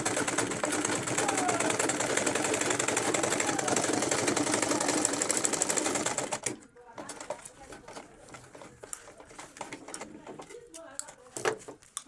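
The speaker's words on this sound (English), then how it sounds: "So I'll be taking it to my sewing machine now." A sewing machine stitches a straw mat turban cap, a steady dense whirr running for about six seconds before stopping, followed by quieter handling noises and faint background sounds.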